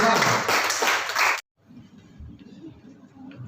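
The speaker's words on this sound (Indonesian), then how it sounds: "Tepuk tangan untuk bagian pertama selesai" An audience at a school accreditation workshop claps in a dense, loud burst of applause that lasts just over a second and cuts off abruptly, followed by quiet room noise.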